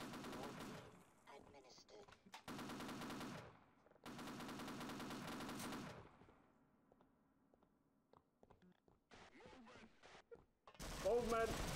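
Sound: 50 cal machine gun firing in the video game Sven Co-op

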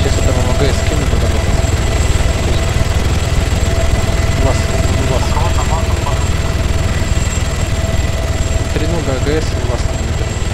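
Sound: helicopter in video game Arma 3

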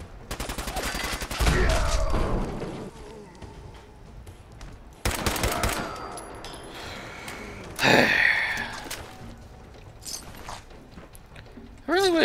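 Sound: 50 caliber gunfire in video game Fallout 4

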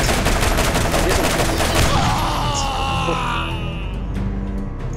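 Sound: gunfire in the video game Borderlands

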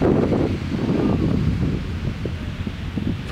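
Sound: wind blowing outdoors

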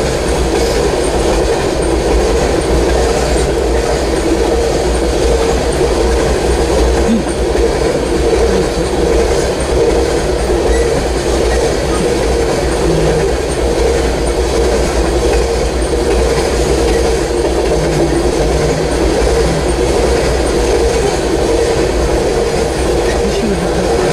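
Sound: Norfolk Southern freight train passing

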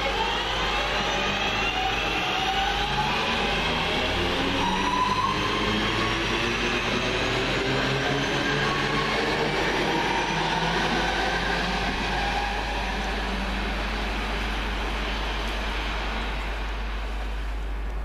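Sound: Northern Rail passenger train departing station

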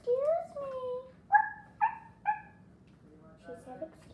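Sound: dog barking

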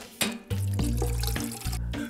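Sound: peeled onions put into a bowl of water

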